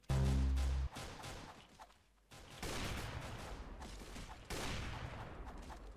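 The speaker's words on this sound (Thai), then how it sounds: "ใครแม่งยิงวะ" Gunfire in the Roblox shooter Arsenal, with a loud booming shot at the start, then a brief lull and dense, crackling volleys of rapid shots that continue to the end.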